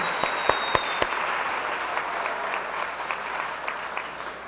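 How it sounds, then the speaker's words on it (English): Sustained applause from a graduation ceremony audience, steady dense clapping with a few sharper claps standing out near the start, filling the whole stretch at moderate loudness. "Let's give another round of applause for our talented speakers."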